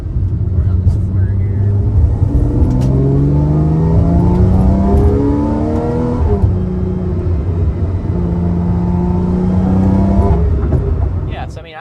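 A Porsche 997.2 911 C4S takes a corner on a country road, its engine revving and rising in pitch with shifts, loud and steady, while someone talks over it.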